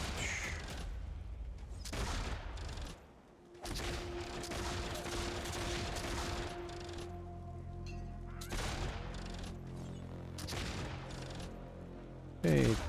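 Rapid machine-gun turret fire in the online game Warhammer Online (Return of Reckoning, Dwarf engineer), dense bursts with a steady drone beneath, briefly dropping out before resuming, loud and close, with a voice faintly underneath.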